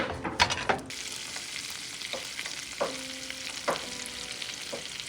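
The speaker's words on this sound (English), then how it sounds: "Then we're gonna mix it all in there." Chili oil being stirred into melted butter in a pan, a quiet sizzle broken by a few clinks and scrapes of a utensil near the start and again later.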